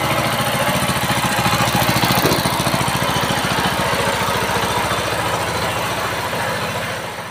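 A mini power tiller engine runs inside a machinery shop, making a steady, close, chugging putter with fast regular firing pulses that ease off slightly toward the end. No one speaks.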